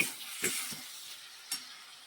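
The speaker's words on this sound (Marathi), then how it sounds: "हे सारण परतून घ्यायचं आहे" Ghevda bean filling sautéed in a pan, heard as a soft sizzle with a few sharp scrapes and stirring clicks from the spoon against the pan.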